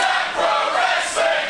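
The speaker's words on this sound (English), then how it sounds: "this crowd voiced their appreciation" Wrestling fans roar in a sustained, dense cheer filling a pro wrestling arena after a late near-fall kickout, steady and loud throughout with a small swell near the end.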